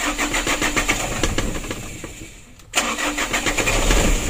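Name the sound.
engine with oil sludge cranking long before starting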